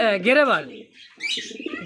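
A gorra pigeon, a light-coloured bird perched among others offered for sale, gives a short, close coo with brief chirpy calls after a pause; a voice may be briefly heard.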